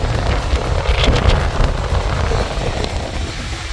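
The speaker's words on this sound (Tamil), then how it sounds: "ஓகே இங்கே காற்று பிக்கப் பண்ணுறேன்." Strong wind at Aberdeen Beach, Scotland, buffets and roars continuously across the microphone, with a low rumbling gusty texture and no voices.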